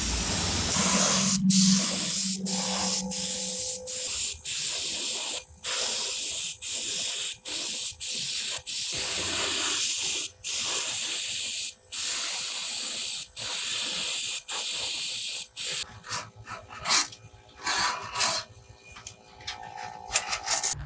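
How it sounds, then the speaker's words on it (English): Paint spray gun spraying paint onto a piece of furniture, loud continuous hissing bursts repeatedly cut by short pauses, close up with no talk. "we've got Provincial loaded up in the gun, so we're just gonna spray a bunch of things Provincial"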